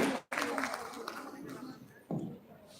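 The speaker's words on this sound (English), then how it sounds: "can we once again have a huge round of applause for our dignitaries here on the DS, please." Audience at an education summit applauding dignitaries, a brief burst of crowd clapping that fades, then a voice begins speaking over the room.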